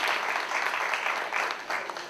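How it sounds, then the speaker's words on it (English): An audience at a Black music seminar applauds: a steady, dense wash of many hands clapping, fairly close and continuous throughout, with no one speaking over it. "So please give them a round of applause"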